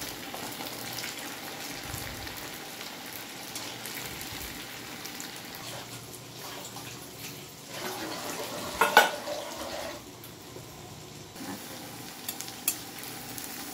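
Pieces of bread frying in ghee in a pan make a soft, steady sizzle heard up close, broken by occasional stirring scrapes and a few light utensil clinks, with no talk.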